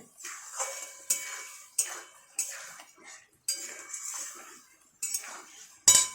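Potatoes being stirred into a spiced egg-curry base in a pan, with a series of distinct metal scrapes and clinks of a spoon against the pan at a steady, unhurried rhythm, close and fairly quiet, no talking.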